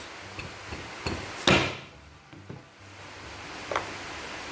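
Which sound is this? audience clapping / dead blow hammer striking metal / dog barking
dead blow hammer striking metal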